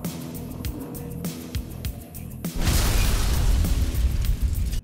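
Explosive thunderstick spear detonating in modded Fallout New Vegas: light clicks and pops give way to a loud, sustained roaring blast with rumbling debris that carries on to the end.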